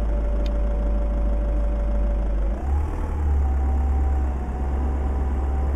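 A Fiat Ducato van engine in Euro Truck Simulator 2 idles with a steady low rumble after starting, its pitch stepping up slightly partway through, continuous and close.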